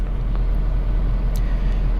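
A Dodge Charger with a severe shaking fault driven slowly and cautiously, giving a steady low rumble of engine and road noise with faint rattles, close and constant.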